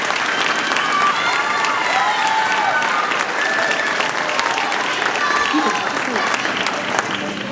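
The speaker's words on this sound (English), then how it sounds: "Go ahead, stand and get a nice round of applause." Sustained applause from a school spring concert audience, steady and fairly loud for several seconds, with scattered cheering and voices mixed in.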